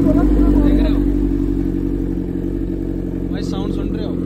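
A Kawasaki H2R superbike engine runs with a loud, steady low drone that holds throughout, as people talk over it.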